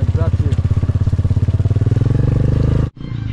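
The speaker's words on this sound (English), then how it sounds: "The engine's suffering because of the wet ground beneath us." A motorcycle carrying three riders labours over wet, rough ground, its engine thudding in a loud, steady low pulse before abruptly cutting off near the end, with voices talking over it.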